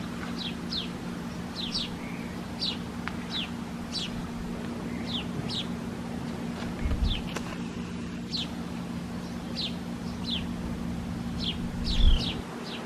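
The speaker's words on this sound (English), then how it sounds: "Look at this pretty little wren." A small wren in a garden gives a series of short, high chirping notes, repeated every second or so over a low steady hum and faint background noise.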